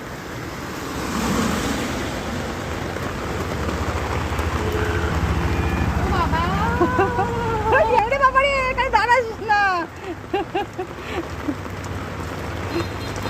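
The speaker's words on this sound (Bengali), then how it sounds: "প্রচুর জোর বৃষ্টি এসে গেছে" Heavy rain pours steadily as a loud, continuous hiss on surfaces, with a passing vehicle rumble, while people speak briefly nearby toward the end.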